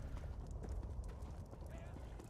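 Horse hooves clip-clopping at a fast gallop in the Elder Scrolls Online game, a steady rapid patter over a dense background of game sound for the whole stretch.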